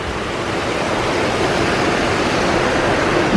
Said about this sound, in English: We've got some waterfalls here.